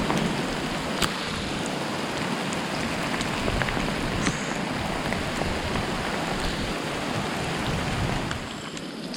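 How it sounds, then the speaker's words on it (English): Steady, dense rain hammering a surface during a mountain storm after pea- to marble-sized hail, a continuous close wash of drops with no voices. "The rain's pretty much, or the hail's pretty much giving way to rain."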